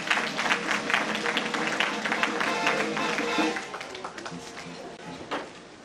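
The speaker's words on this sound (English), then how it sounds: "A round of applause." A round of applause at a university inaugural lecture, a hall full of people clapping loudly and briskly, then fading toward the end.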